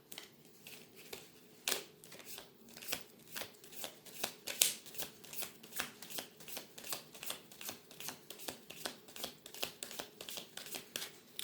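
A deck of tarot cards being shuffled by hand: close, quiet, rapid riffling with steady repeated bursts of card slaps and flutters throughout, without talk.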